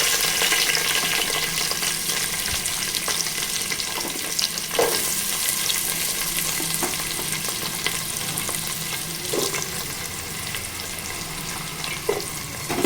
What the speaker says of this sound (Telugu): ఉల్లిగడ్డ ముక్కలు వేసుకోవాలండి.